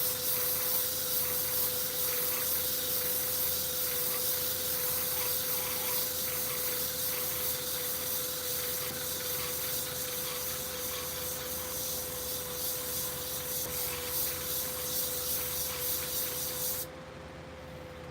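A shear blade being sharpened to work the burr, a continuous close hissing grind with a steady hum beneath, lasting without pause until it abruptly softens at the end.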